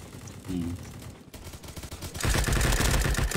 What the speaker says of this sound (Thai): แล้วมันก็ยังมีเสียงปืนอยู่ด้วย